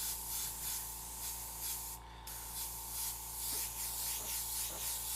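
An airbrush sprays Createx Illustration Black paint in a light first pass, a steady airy hiss over a constant low hum that cuts out briefly partway through and then resumes.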